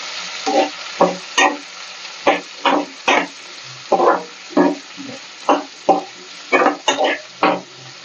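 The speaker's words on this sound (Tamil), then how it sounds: "கொஞ்சம் நல்லா எண்ணெயிலே ஃப்ரை ஆகணும்." Onions with ginger-garlic paste, dried chillies and oil fry in a pan, a rhythmic series of sharp stirring scrapes about twice a second over a faint sizzle, close and without voices.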